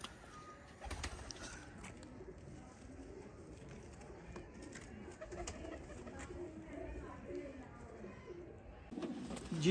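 Sialkoti teddy pigeons coo softly and repeatedly in a backyard setup, with low murmuring and faint background noise throughout and a brief louder rustle at the end.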